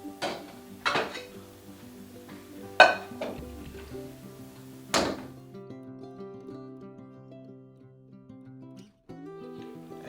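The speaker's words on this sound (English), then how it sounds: "So we're gonna transfer all this into a pot." Metal utensils clink and scrape against a pot a few times while samosa ingredients are transferred into it, with a sharp clang midway and quiet stretches between.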